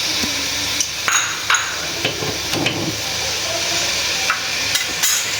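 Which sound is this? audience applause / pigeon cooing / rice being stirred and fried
rice being stirred and fried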